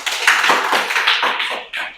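A small group in a classroom claps for a presenting student group, a loud, close burst of a few hands in uneven bursts for about two seconds.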